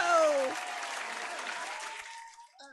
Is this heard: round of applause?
yes